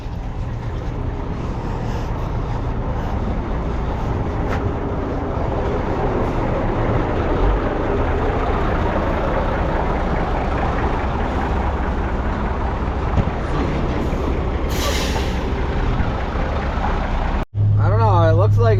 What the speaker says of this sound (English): That's why I left the truck running